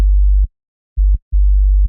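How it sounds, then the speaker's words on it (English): Basic sine wave sub bass from a production breakdown: three deep, pure low tones, each held for about half a second and separated by short gaps, with no other instruments. "And then a basic sine wave sub."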